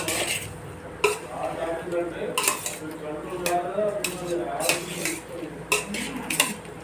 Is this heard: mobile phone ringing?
no